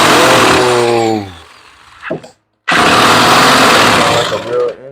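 A small nitro RC buggy engine revs loudly, buzzing and rattling close by, drops to a sputter, cuts out briefly, then roars back at high revs. A voice speaks over the start.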